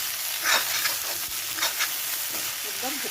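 Fish pitika mixture fries in a pan under constant stirring, a loud broad sizzle with repeated scraping strokes of a spatula against the pan, close and without speech.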